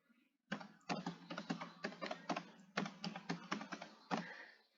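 Typing on a computer keyboard while filling in an Excel spreadsheet, quick close bursts of key clicks in irregular runs with short pauses between them, no voices over them.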